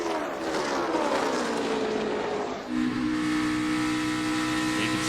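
NASCAR stock cars, including Chase Elliott's No. 24 and the 78, race at the 2016 Bank of America 500. Loud, continuous engine roar fills the whole stretch, with pitch sweeping downward as cars pass, then a steady, high drone.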